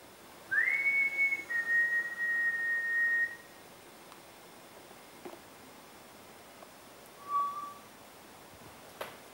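A single long, steady whistle held for a few seconds, then a short faint whistle later over a quiet outdoor hiss.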